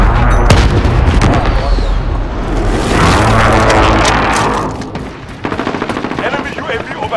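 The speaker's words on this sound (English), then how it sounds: "Enemy precision airstrike inbound." Explosions and rapid gunfire from an enemy precision airstrike in Call of Duty: Modern Warfare, loud booming blasts and bursts of shots over several seconds, easing then picking up again.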